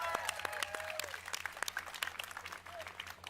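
Scattered claps and a few voices rise from the audience at EA Play E3 2019 after the Star Wars Jedi: Fallen Order gameplay reveal. The applause is sparse and fairly faint, with individual sharp hand claps standing out over a low murmur.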